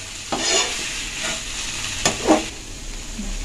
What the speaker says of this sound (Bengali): এটাকে এবার ভালো করে মিশিয়ে নিতে হবে।